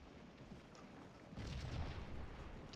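Cannon fire in the Civil War game Scourge of War Gettysburg: a distant artillery boom rolls in partway through, faint and muffled, over a low background rumble.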